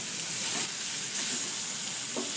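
Potatoes sizzle in a hot pan as they are stirred together with turmeric powder, coriander-cumin powder and garam masala, giving a steady close frying hiss broken by a few soft scraping stirs.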